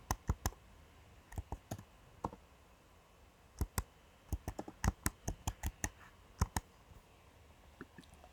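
Computer keyboard typing and mouse clicks in quick irregular bursts, close and crisp against a quiet room, with a few short pauses between runs of keystrokes.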